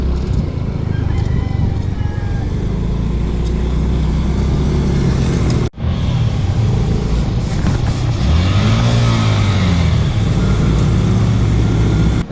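Steady motorbike ride along a road to Cebu City, with a continuous engine drone and wind rumble throughout, a brief dropout midway, and passing traffic noise.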